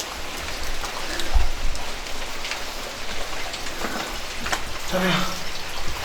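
Steady rain falls outside at a tourist cave site in North Alasa, Nias, a soft continuous hiss with scattered drops, with a low thump and faint voices in the background.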